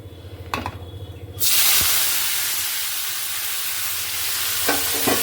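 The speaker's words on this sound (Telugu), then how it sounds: "ఇప్పుడైతే మనం టమాటాలు వేసుకుందాం అదే నూనెలో" Tomatoes dropped into hot oil burst into a loud, steady sizzle and hiss that starts abruptly after a few metallic clinks and spatters on for several seconds, close and without talk.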